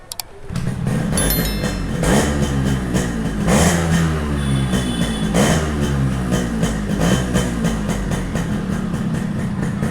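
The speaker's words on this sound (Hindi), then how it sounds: "ओके सो गाइस लेट हम लोग उसका एग्जॉस्ट नोट सुनते हैं। गाड़ी न्यूट्रल पे है" A restored Yamaha RX 135 two-stroke motorcycle revs in neutral close by, its exhaust rising and falling in repeated throttle blips over a steady buzzing idle for about ten seconds.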